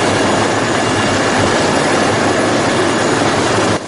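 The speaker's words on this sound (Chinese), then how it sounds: "海鸥直升机到了海域的上空" Seagull rescue helicopter hovering over rough sea during a fishing-boat fire rescue off Penghu, a loud, steady broadband rotor and engine roar throughout that drops off sharply at the very end.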